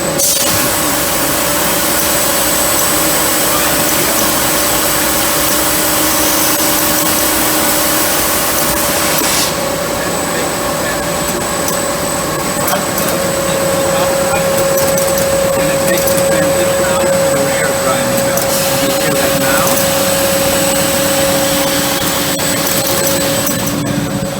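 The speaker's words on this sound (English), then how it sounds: "So now we will hear a longer stretch of grinding." A loud, steady machine grinds continuously, with a constant mechanical whine and hum. Partway through, the bright high hiss eases off while the grinding carries on.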